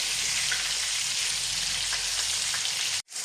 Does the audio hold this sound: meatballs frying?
yes